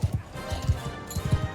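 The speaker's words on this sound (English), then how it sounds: "This horse is very slow." Horse hooves clip-clop in Mount & Blade II: Bannerlord, a slow mount giving soft, uneven low thuds in an irregular walking rhythm over a faint ambient game bed.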